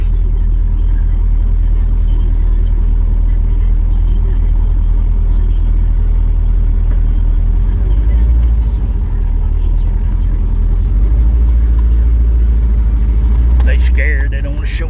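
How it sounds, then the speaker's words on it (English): An SUV drives past on the road, its low engine rumble swelling over the steady drone of a nearby vehicle engine, with voices talking in the background. "SUV coming, Dad."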